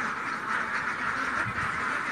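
Ducks on a backyard duck farm in Ormoc, Leyte, Philippines quack in a dense, continuous chorus, close and moderately loud, with overlapping calls and no clear pauses.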